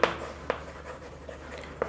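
A pen writes on paper during a Class 6 maths lesson, making faint, sparse scratches and taps against a quiet room hum.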